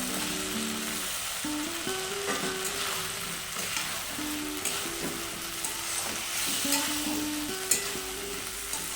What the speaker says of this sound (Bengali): সস দিয়ে 1 মিনিট মতো নেড়ে চেড়ে দিয়ে দেব ভেজে রাখা চিকেন